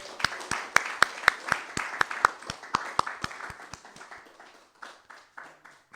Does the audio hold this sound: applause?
yes